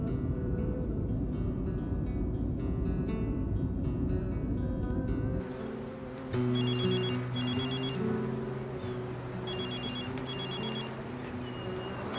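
A telephone rings in repeated electronic bursts, a patterned trilling ringtone over a background hum, with no one speaking.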